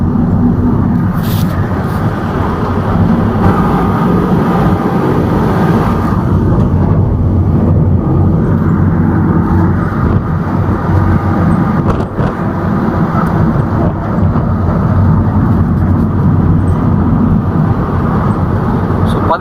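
A tempo truck's engine drones steadily on a hill road in Coorg, Karnataka, with constant loud road rumble and wind noise filling the ride, a voice talking underneath.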